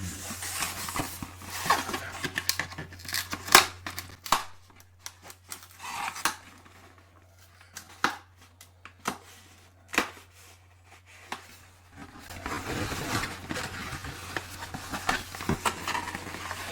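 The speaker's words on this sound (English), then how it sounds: "Plastic food wrap. Exceptional strength and cling." Plastic food wrap pulled and torn from a roll at close range, giving scattered sharp crinkles, rips and clicks with quiet gaps between them, then denser rustling near the end.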